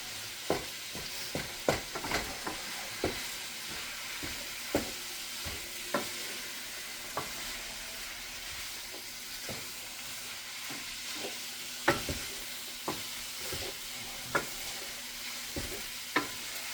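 Spiced chili burrito filling sizzles and fries steadily in a pan while a utensil stirs and scrapes with frequent sharp clicks, close and without talk.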